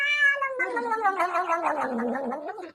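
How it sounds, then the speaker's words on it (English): A pet cat meows loudly and close by, one long drawn-out wavering cry lasting nearly three seconds, with no talk. "That's my cat."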